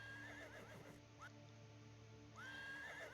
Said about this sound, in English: Sound effects like horses neighing.